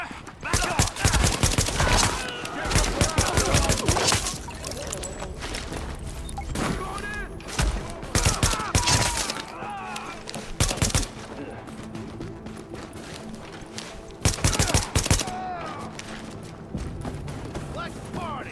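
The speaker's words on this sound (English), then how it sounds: "Fire on target." Bursts of gunfire from the video game Tom Clancy's The Division, rapid volleys and single shots clustered in loud stretches with pauses between, over a busy game soundscape.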